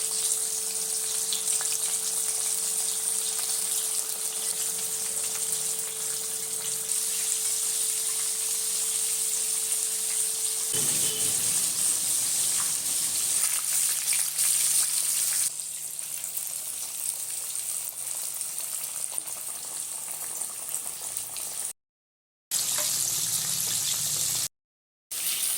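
KFC-style floured chicken pieces frying in hot oil, a steady soft sizzle and crackle throughout with a faint hum that drops away midway, and a couple of brief cuts to silence near the end.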